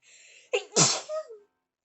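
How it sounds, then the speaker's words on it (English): A single loud sneeze with a sharp inhale buildup, followed by a brief trailing vocal sound, then silence. "Oh, I have to sneeze."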